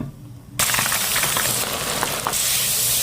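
Potato chips frying in hot oil: quiet at first, then a sudden loud, dense crackling sizzle that keeps going steadily, close up, with no voices.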